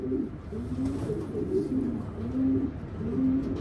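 Racing pigeons coo softly and repeatedly in a low, rolling rhythm, with several calls spaced about a second apart over steady background noise in a loft.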